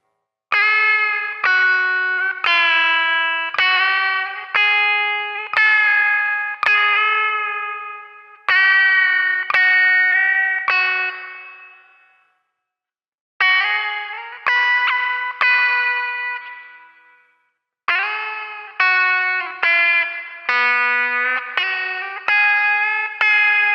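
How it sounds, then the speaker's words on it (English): Slow, warbling synth-like tones from a Chase Bliss Warped Vinyl HiFi pedal with its RPM turned down play in repeated rhythmic bursts with pauses between phrases, their pitch sagging and wobbling as if from a slowed record. "I turned down this RPM knob, which changes the sound and makes it sound slower and more weird and cool."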